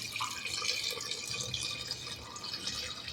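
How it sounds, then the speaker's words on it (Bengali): Water poured steadily into a pot of spiced mutton curry with cinnamon, cardamom and cloves, a continuous close splashing and trickling that carries through without pause. "এবার এর মধ্যে আমি জল দিয়ে দেবো।"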